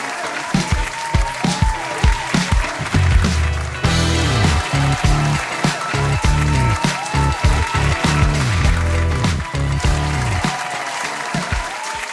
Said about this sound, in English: So let's give her a big round of applause to Monika Gergelova from Slovakia.